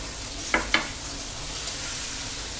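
Chili flakes sauteing in hot oil for dragon chicken give a steady close sizzle, with two quick scraping stirs near the start and no talking.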